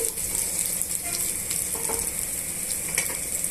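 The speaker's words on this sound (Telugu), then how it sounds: "ఇవన్నీ బాగా వేయించుకోవాలండి" Spices frying in oil for okra (bhindi) fry, a loud continuous sizzle with bright crackle and occasional clinks of stirring, close up and without speech.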